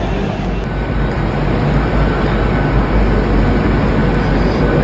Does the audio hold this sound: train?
yes